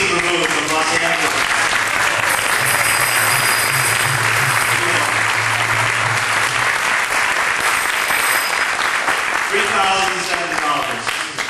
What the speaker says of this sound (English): give a warm round of applause to Srila Prabhu from Los Angeles.